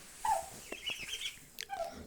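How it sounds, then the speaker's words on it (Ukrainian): Young turkey poults on a farm give a few short peeping chirps and calls, one near and clear at the start and another near the end, with faint scattered chirping between. "Досить дуже гарні гіндичата."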